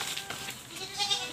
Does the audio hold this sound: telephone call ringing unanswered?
no